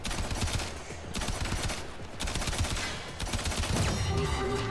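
Rapid gunfire in the video game Warframe as a target is shot down, with dense bursts of shots repeating steadily over a busy game soundtrack.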